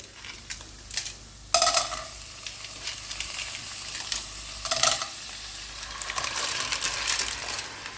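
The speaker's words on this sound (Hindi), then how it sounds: "तो अब इसमें डालते हैं क्लैम्स यानी तीसरियों।" Clams tipped into a pan of lightly sautéed onions, a loud burst of sizzling that flares up twice, with metallic scraping and clinks from stirring, close and without talk.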